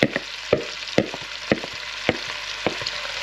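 Onions sizzling in butter and oil in a pan for French onion soup, a steady frying hiss with regular clinks and scrapes from stirring, close up.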